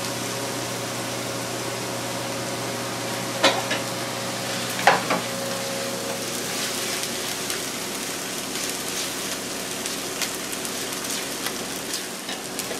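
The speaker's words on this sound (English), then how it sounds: "Saute that for about a minute or 2." Eggplant sautés in a pan for caponata, giving a steady, even sizzle that runs throughout, with a couple of brief louder clicks from stirring.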